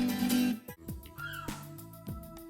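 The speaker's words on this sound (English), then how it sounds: "there is a peculiar audio bug where the sound of seagulls will only play when looking in a certain direction" Seagull cries from a glitching sound effect in the video game Ty the Tasmanian Tiger: several sharp, falling calls in quick succession, loud and close, with no voices.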